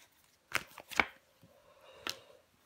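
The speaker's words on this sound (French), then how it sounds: "Je vais couvrir le 6 de coupe." Tarot cards being handled and laid down on a table, with three crisp, separate slaps and shuffles spaced over a few seconds, close and fairly quiet.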